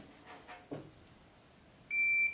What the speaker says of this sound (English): now once we keep getting this, this long beeping sound, you are now in programming mode